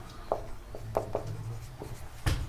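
A pen scratches across paper in short, quiet strokes and taps, writing out a maths solution at close range, with no talking over it.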